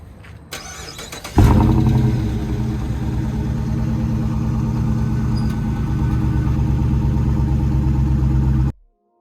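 Cold start of a car engine: a brief starter crank, then the engine catches with a loud rev and settles into a steady, rough idle close by, cut off abruptly near the end, with no talking.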